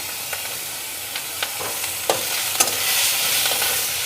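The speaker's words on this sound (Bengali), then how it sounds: "পেঁয়াজটা একটু লাল করে ভাজা হওয়ার পরে এর মধ্যে দিয়ে দেবো আদা।" Grated ginger and garlic added to reddened onions frying in a pan for a prawn and jackfruit dish; a steady hiss of sizzling with several sharp stirring scrapes and clicks, close and moderately loud.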